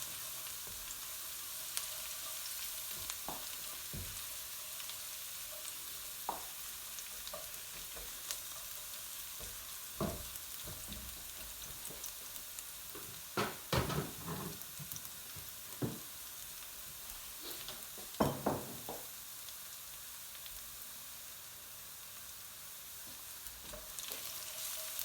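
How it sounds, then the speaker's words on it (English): Garlic frying over high heat in a pan for restaurant-style garlic chilli fried rice, a steady close sizzle with occasional louder pops and spits, no voices. "I'm going to put it on high heat and just to wait for the garlic to go golden brown"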